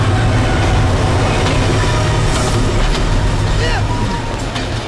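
A train stands at a station about to depart, its heavy mechanical rumble and hiss filling the platform with continuous loud noise and a faint metallic squeal near the end.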